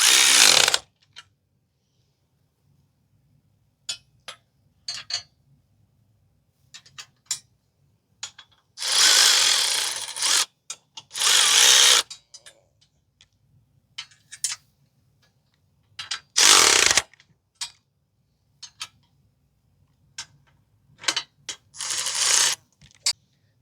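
Bolts being tightened with hand tools while assembling a 12 ton hydraulic shop press, heard as scattered metallic clicks and ratcheting bursts with several louder runs of rapid wrenching, alone and without talk.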